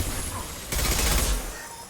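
A short, dense burst of gunfire from a Mass Effect Legendary Edition firefight breaks out sharply midway and fades within about half a second.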